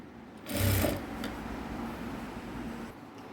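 A sewing machine stitches along a chalk mark on a shirt collar, with a short, louder whirring burst near the start that settles into a quieter steady run, then a pause.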